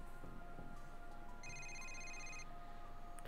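A cell phone rings in the Yakuza Kiwami video game, a short electronic ringtone burst heard over a steady background hum of game ambience.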